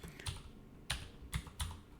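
Computer keyboard typing in a few separate bursts of keystrokes, quiet and close, with pauses between them and no voices.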